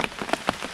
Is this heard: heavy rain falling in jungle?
yes